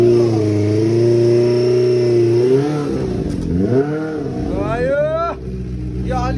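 A Benelli TNT 300 motorcycle fitted with a loud exhaust drones and revs close by, its engine note rising and falling steadily before swelling and sweeping upward as it passes.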